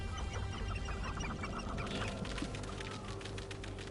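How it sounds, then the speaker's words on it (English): Chickens cluck and squawk in Hogwarts Legacy, a dense overlapping flock of clucks with sharper calls that pick up partway through, heard alone with no talk. "There's just so many fucking chickens around."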